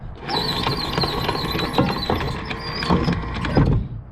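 Metal anchor chain rollers on a 1988 Ocean Yachts 48SS boat squeal and creak continuously as the chain runs through them, with grinding clanks and rattles mixed in, fairly close.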